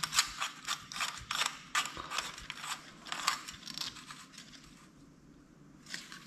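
A threaded fitting being screwed by hand onto a custom-built light fixture, giving a run of close, rapid clicking and grinding ratchet-like bursts that ease off toward the end.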